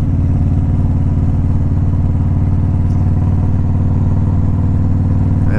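A big touring motorcycle engine rumbles steadily at close range, a low, even idle-to-cruise drone with faint clatter and no talking over it.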